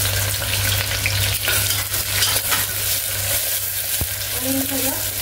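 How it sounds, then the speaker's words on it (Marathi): Onion and tomato frying with curry leaves in a pan for mutton kheema, a steady loud sizzle running throughout with occasional stirring scrapes and a brief utensil tap. "कांदा शिजून द्यायचा आपल्याला। छान असा कांदा आणि टोमॅटो दोन्ही शिजून द्यायचे।"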